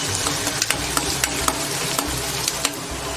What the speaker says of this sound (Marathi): आता त्यामध्ये हा एक कांदा चिरून घेतलाय तो घालून घेऊया. व्यवस्थित असं मिक्स करून घेऊया.